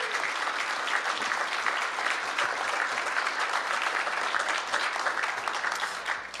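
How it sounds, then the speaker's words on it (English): Audience applause at a mayoral announcement event welcoming a newly introduced official: dense, sustained clapping from a crowd, steady and fairly loud from start to finish, with no voices over it. "give her a big round of applause"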